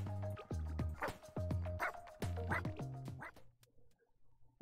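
A small dog in Wobbledogs lets out a string of quick, yappy barks, about six in steady rhythm, close and fairly quiet, trailing off into near silence at the end.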